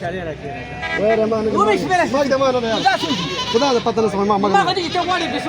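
Goats bleat repeatedly at a Talagang livestock market, with several wavering calls rising and falling close by amid constant chatter and haggling voices.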